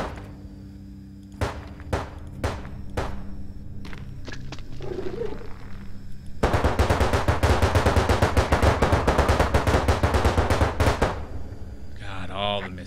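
Gunfire in the PC strategy game Tales from the Void: a few separate shots at first, then a long rapid burst of loud rattling fire, with a bird-like cooing effect near the end.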